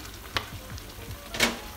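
Crab in spicy sauce with sweet soy sauce sizzles in a pan while a utensil scrapes and stirs a few times, with a louder splash of sizzling near the end.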